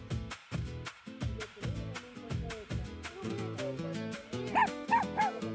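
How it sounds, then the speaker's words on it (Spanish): Dog barking and yipping at llamas at the Quilmes ruins near Cafayate in northern Argentina, a run of repeated close barks and whimpers over a music-like tonal backdrop. "apareció Frida y empezó a ladrarles"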